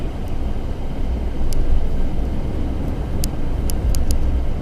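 Continuous road and engine noise from a car driving a highway through Centralia, Pennsylvania, a steady rumbling drone with a few faint high ticks and no voices.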